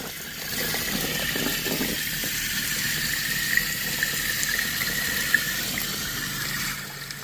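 Water gushes steadily through a thick area rug soaked with pet urine as it is rolled and flushed, a loud continuous rushing wash with no pauses for several seconds.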